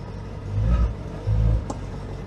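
A classic car's engine pulls away with a faulty exhaust firing at the back. Two short rising revs stand out over a low, quiet rumble.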